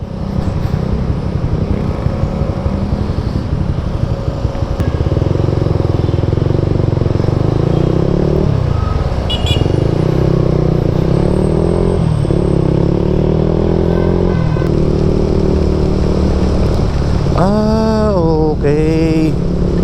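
A motorcycle riding on a street in Pasig, its engine humming and rumbling steadily up close with shifting pitch and a burst of revving near the end, traffic noise around it.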